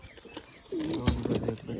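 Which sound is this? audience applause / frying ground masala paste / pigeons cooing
pigeons cooing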